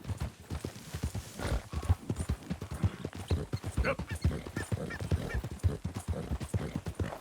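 Horse hooves clip-clop steadily during riding in Red Dead Redemption 2, a fast regular rhythm of close, distinct beats throughout.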